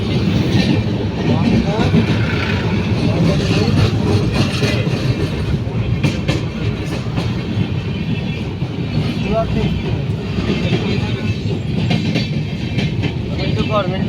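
A Surat Express train runs past on the rails at close range, its steady loud rumble and clatter filling the whole stretch while people talk over it.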